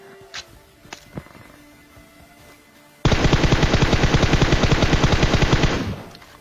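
Sustained automatic gunfire in the mobile battle royale game PUBG Mobile, a loud rapid burst of shots lasting about three seconds after a few quieter clicks and single reports, close and dominant.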